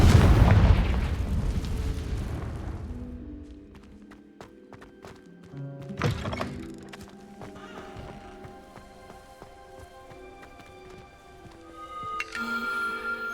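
A Confringo fire spell explosion in the Hogwarts Legacy video game, opening with a loud rumbling blast that fades, then a sharp impact and scattered chimes and game effects, with a horse whinnying nearby.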